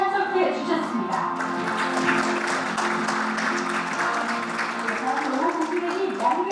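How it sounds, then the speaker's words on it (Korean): A large audience at a Korean energy expo ceremony claps steadily and loudly in broad, sustained applause as a guest of honor is welcomed, with voices and background talk mixed in throughout. "바로 모두 큰 박수로 맞이해 주시기 바랍니다."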